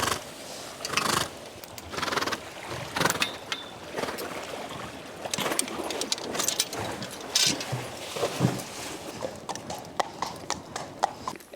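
A racehorse's hooves clip-clop in an uneven rhythm on a hard surface over several seconds, with an occasional whinny, moderately close amid background clatter and faint voices.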